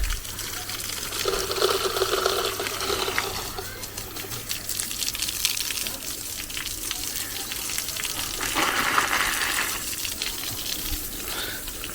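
Water splashes and runs steadily onto cement plaster, with bursts of heavier spraying; pigeons coo faintly in the background.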